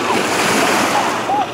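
Waves from a passing boat's wake wash broadly onto a Lake Michigan shore near Little Sable Point lighthouse, a steady close surf rush mixed with wind.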